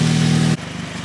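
A Nissan B15 car engine runs with the hood area open, a steady close hum with a low tonal drone that cuts off suddenly halfway, leaving a softer rhythmic idle.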